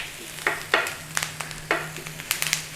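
Onions cooking in a pan toward golden brown, with a steady low sizzle broken by several sharp scraping and stirring clicks at irregular intervals, close by and fairly loud.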